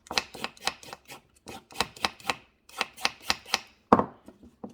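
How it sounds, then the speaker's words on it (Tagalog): Carrots being chopped with a knife on a cutting board for spicy noodles, a steady run of sharp, close knife taps in quick bursts, then one heavier chop near the end, with no talking. "This, palatan natin yung ating carrots"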